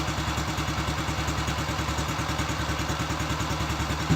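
Freshly assembled Honda Biz C100 motorcycle idling up close, its slightly noisy exhaust putting out a regular quick thumping beat with faint clatter on top, steady throughout and free of voices.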